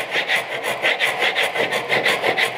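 A Ryoba pull saw cuts wood for a miter joint, made with hand tools, giving steady rhythmic rasping strokes, about a dozen back-and-forth passes, close and clear with no talking.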